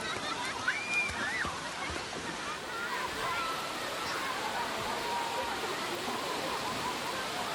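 A giant waterfall in Satun, Thailand roars in a continuous dense wash of noise, steady and close, with brief faint voices early on.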